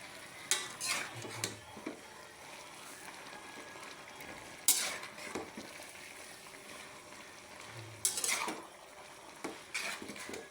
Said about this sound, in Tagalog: Ito na po yung ating ginisang kangkong na may kabuti.